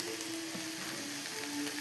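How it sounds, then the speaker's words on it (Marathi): Green chillies fry in hot oil with a steady, even sizzle and fine crackle, close and continuous with no voices. "थोड्याशा मिरच्या तळणार आहे"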